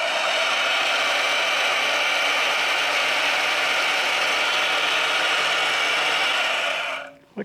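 A bandsaw fitted with a metal-cutting blade runs in a workshop, a loud, steady high-pitched whirring drone that holds unchanged for several seconds before spinning down abruptly at the end.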